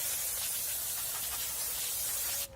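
A steady aerosol spray of brake cleaner hisses continuously at close range onto a front wheel hub of a 2006-2010 Ford Explorer for a couple of seconds, then cuts off abruptly.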